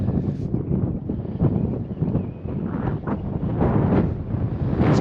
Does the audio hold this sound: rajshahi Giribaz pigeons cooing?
no